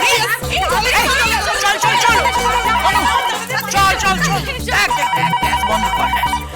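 A phone rings loudly in a Bengali TV drama scene, a melodic ringtone repeating over and over while voices talk around it.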